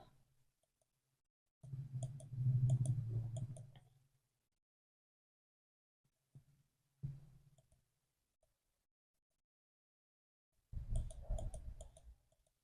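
Computer mouse clicks come in a few separate bursts with silence between them, quiet and close, while building a PowerPoint animation.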